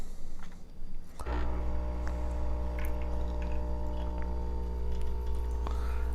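A Delonghi La Specialista espresso machine pulls a shot, its pump starting with a sudden steady hum that holds for several seconds under faint liquid trickling.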